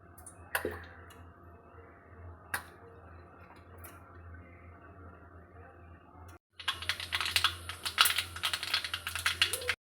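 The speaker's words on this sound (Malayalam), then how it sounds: "കടുക് നന്നായി പൊട്ടിക്കഴിഞ്ഞു." Mustard seeds pop in hot oil in a pan. A few sharp isolated clicks come first, then a dense burst of crackling starts partway through and continues close and steady until the end.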